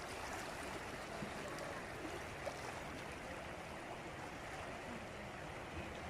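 Steady rushing water of the Indus River at Kot Sultan, Sindh, fills the scene, a continuous broadband wash, close and even throughout with no voices.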